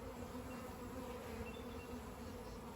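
Honey bees buzz around a hive entrance nook in a quiet outdoor setting, a soft, continuous droning hum of many insects at close range, faint and steady throughout with no talking.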